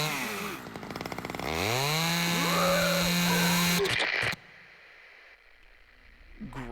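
Chainsaw revving in a Dead by Daylight game trailer: a loud, buzzing engine whine that rises and sustains for several seconds before cutting off abruptly, leaving quiet background.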